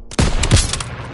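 A short burst of rapid gunfire rattles in a Call of Duty WWII campaign battle, loud and close, several shots tumbling together within about a second before fading.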